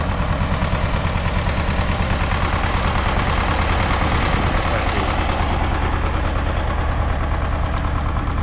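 A UMZ 8240 tractor engine idles steadily in an open field, a loud, continuous low diesel rumble with a constant throbbing rhythm throughout, close to the microphone and with no voices over it.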